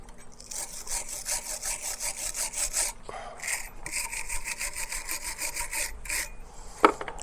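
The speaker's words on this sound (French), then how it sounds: "à partir de là on va donner un petit coup de brosse" A wire brush scrubs the rear brake parts of a Peugeot 307 in quick, rhythmic scraping strokes, close and fairly loud, in several bursts with a brief metallic knock near the end.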